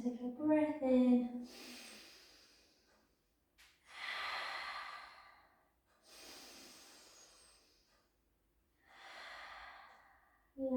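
Slow, airy breaths during a Pilates hamstring and calf stretch, several long inhales and exhales spaced a few seconds apart, close and soft, with a little talk at the start.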